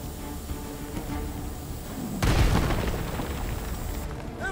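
In the Guardians of the Galaxy game, an object is hurled through a wall, producing a single loud crashing boom midway with a heavy low thud and scattering debris, over a steady background of game ambience.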